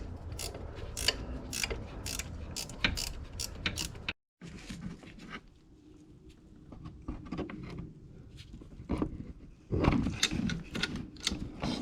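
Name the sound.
ratcheting wrench tightening VW Golf alternator pulley bolts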